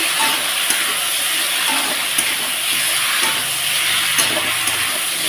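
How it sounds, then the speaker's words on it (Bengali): A pan of fish curry with turmeric, banana and potato sizzles loudly and steadily while being stirred, a dense close frying hiss with faint scraping, and no voices. "তো এখন আবারও ভালোভাবে আমি এটাকে নাড়াচাড়া করে নিচ্ছি।"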